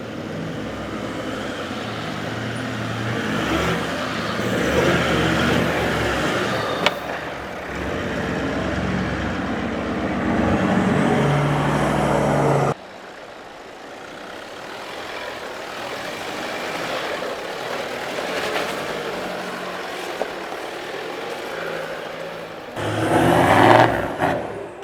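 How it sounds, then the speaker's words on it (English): An off-road vehicle with front and rear lockers engaged and tyres at low beach pressures climbs a steep coastal slope, its engine droning steadily and revving harder near the end, heard close without talk. "So I'm going to be locked front and rear coming up that, so I get minimum wheel spin."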